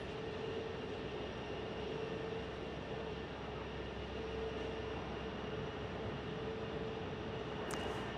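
A jet airliner's engines spool up at Phoenix Sky Harbor airport, a steady, distant roar with a faint sustained tonal whine, heard alone in open outdoor air.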